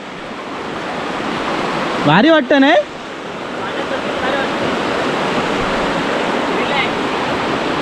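Continuous rushing of stream water in the Konkan during the rainy season fills the scene, with a person speaking briefly over it early on.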